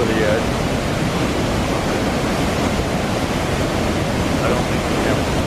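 A powerful waterfall in Uganda roars in a dense, continuous broadband wash of crashing water, loud and close with no break or voices.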